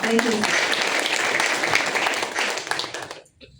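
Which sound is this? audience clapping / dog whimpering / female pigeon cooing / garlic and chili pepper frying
audience clapping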